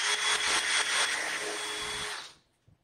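A power drill bores holes through craft material into a board, a steady loud whine with slight rhythmic pulses running for about two seconds before stopping abruptly.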